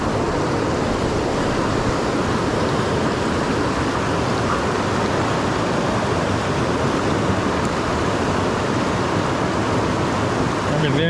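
A mountain creek flows in a steady, dense rush of water, broadband and continuous at close range, with no voices over it.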